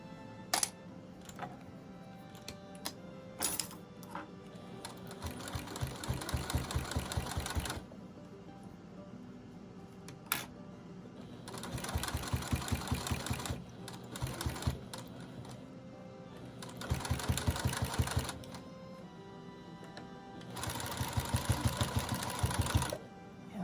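A sewing machine stitches a rag quilt seam in several bursts of rapid mechanical chatter with quiet pauses between them, and small clicks and handling noises in the gaps.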